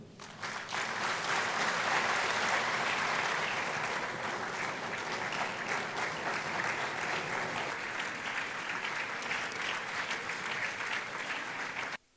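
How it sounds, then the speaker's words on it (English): A lecture hall audience at a memorial lecture applauds the speaker, broad sustained clapping from many hands rising quickly and holding steady before cutting off abruptly at the end. "a louder round of applause for our speaker"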